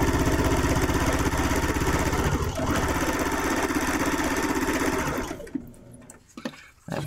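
A sewing machine stitches a Bargello quilt in a fast, steady mechanical rattle close to the listener, running for about five seconds before stopping and leaving faint handling sounds.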